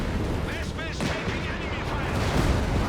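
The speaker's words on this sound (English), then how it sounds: "Some self-propelled artillery." Self-propelled artillery fires in the strategy game Company of Heroes 3, with booming shots and battle noise that go on throughout while a commentator talks over them.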